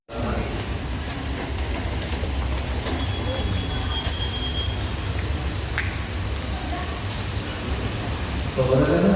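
A KRL commuter train rumbles at a platform in Indonesia with a steady low drone, occasional wheel squeals and clicks, and an Indonesian station announcement over the noise.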